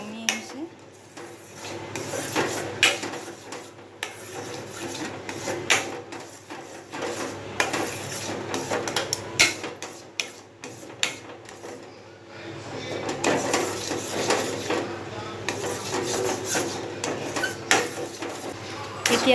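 A spoon scrapes and rubs nonstop around a pan of thickening milk mixture for pera, a continuous close stirring rasp that swells and fades in waves, with a voice talking in places.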